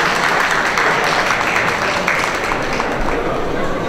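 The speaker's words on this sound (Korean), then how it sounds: "다시 한번 뜨거운 박수 부탁드리겠습니다" Audience at the Design Korea 2018 opening balancing performance applauds, a dense continuous wash of clapping mixed with crowd murmur, steady and loud throughout.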